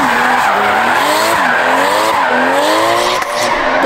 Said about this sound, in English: It's like drifting off-road.